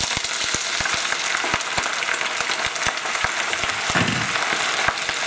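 Spinach hits a hot pan with garlic and fries in a dense, crackling sizzle full of rapid pops, close and steady throughout.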